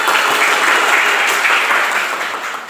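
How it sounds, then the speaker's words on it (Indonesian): Classroom applause at a teaching performance session, a short burst of loud, dense clapping from a group that holds steady and then eases slightly at the end. "tepuk tangan untuk kita semua yang hebat hari ini"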